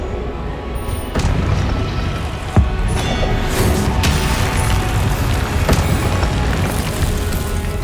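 A Bombarda spell blasts in Hogwarts Legacy amid loud continuous battle noise, with several booming impacts punctuating the roar.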